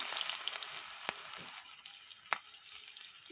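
Onions sizzling in hot oil in a pan, a steady hiss with a few sharp clicks of stirring or utensil taps, close but fairly quiet, no one talking.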